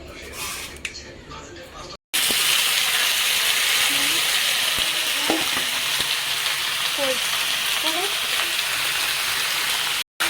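Chicken hits hot oil in a wok and fries with a loud, dense sizzle that runs steadily after a brief quiet start, with occasional stirring clinks and a voice speaking over it.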